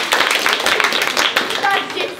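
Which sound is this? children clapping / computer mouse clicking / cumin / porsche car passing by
children clapping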